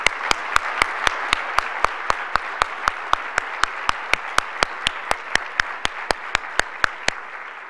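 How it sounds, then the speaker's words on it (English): An audience at a poverty policy conference applauds in sustained, dense clapping, with a steady roar of many hands punctuated by evenly spaced sharp clicks throughout. "would you please give a great round of applause and gratitude to all of them?"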